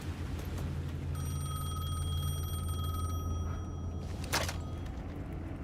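A phone rings in the video game Alan Wake 2, a steady electronic ringing tone sustained over a dark ambient background, with a brief burst of noise near the end.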